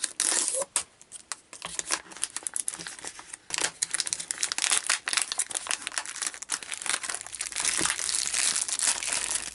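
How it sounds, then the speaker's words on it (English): Heat-sealed waterproof plastic packaging on a K9 first aid kit is torn open by hand. The clip is full of loud, close crinkling and ripping with irregular sharp crackles that go on for about ten seconds. "each kit is fully waterproof, heat sealed, and also has a zip lock for once this seal is removed, resealing and using again and again. So I'll tear it open"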